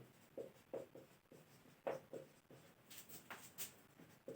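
A pen writes out an arithmetic progression on paper for a maths exercise, soft close scratching strokes in short bursts with brief pauses, quiet and with no speech.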